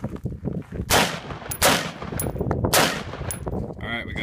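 An AR-15 rifle fires 77 grain Black Hills rounds through interior walls, giving three or four sharp, loud cracks spaced about a second apart with ringing tails between them, close and without talk.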